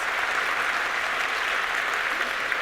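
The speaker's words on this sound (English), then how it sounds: "You can applaud." A conference audience applauds a speaker, a steady, uniform wash of clapping with no voices, held evenly throughout.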